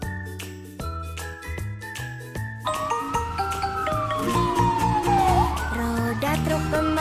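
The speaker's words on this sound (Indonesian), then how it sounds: "Wow, ada pemadam kebakaran teman-teman." A toy fire truck plays a jingly electronic tune, then a wavering siren sweeps up and down over the melody, fairly loud and close.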